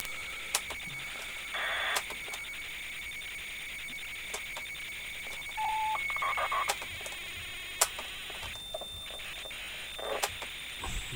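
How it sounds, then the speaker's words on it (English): An audio tape being fast-forwarded gives off a steady, thin mechanical whine with scattered sharp clicks and chirps. Quiet hiss runs underneath, and no voices are heard. "That's the sound of it being fast forwarded on my tape."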